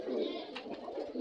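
A Pakistani Giribaz pigeon with five rings coos briefly from close by, a low murmuring call over faint background noise.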